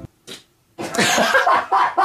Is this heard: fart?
yes